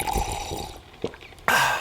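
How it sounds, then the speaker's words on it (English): A close, wet slurp of a first sip of hot morning coffee, followed by a swallow and a soft exhale. "That's not just the sound of that first sip of Morning Joe."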